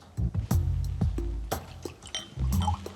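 Water is poured into a glass at close range, with bursts of splashing and clinking that start and stop over a few seconds.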